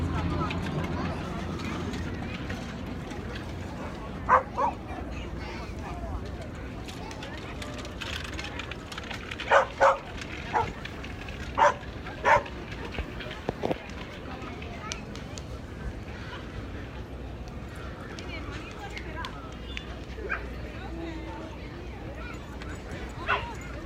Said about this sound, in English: There's a lot of dogs here all along the waterfront.